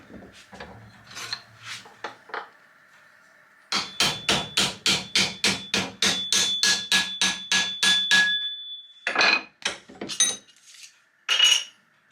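A hammer folds a metal hinge section for an Austin 7 special: a few scattered ringing blows, then a fast even run of about fifteen sharp metallic strikes, and a few final hits, close and clear.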